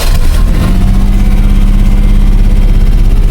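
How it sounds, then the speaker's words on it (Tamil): A Maruti 800 car with about 70,000 km on it runs close by, its small engine giving a loud, steady, throbbing idle with a slight rise in revs near the start. "இன்ஜின் சத்தத்தை கேட்டு பாருங்க."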